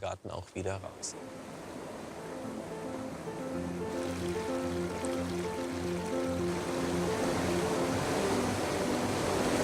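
Fast-flowing, straight stream in Munich's Englischer Garten park, a steady rushing wash of water that grows fuller after a few seconds, with a couple of sharp knocks at the start.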